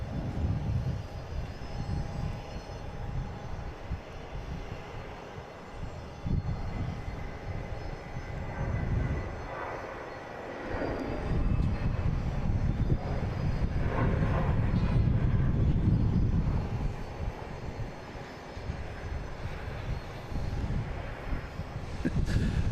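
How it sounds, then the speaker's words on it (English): A JetBlue Airbus A320 takes off from runway 22 right at Boston Logan airport, its engines building into a loud, sustained broadband roar that swells and lingers, heard from a distance. "We got a JetBlue heading to Richmond, flight 1081 and A320. Taking off on 22 right."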